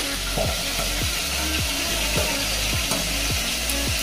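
Fish pieces frying in hot oil, four at a time, with a steady dense sizzle running throughout and a few low, regular thumps from the pan or spatula; no one speaks.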